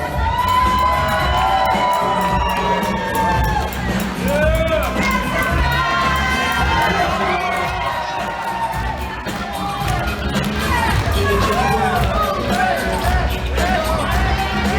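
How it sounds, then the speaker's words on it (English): A wedding reception crowd cheers and whoops for the bridal party as they are announced, a continuous loud roar of excited shouting voices and babble throughout. "Coming up is a trio. A big round of applause for Jessica, Devin, and Sahil."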